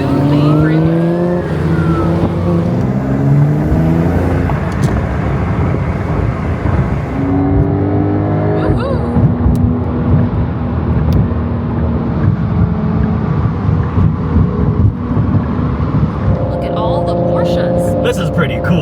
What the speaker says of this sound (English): Getting onto the freeway.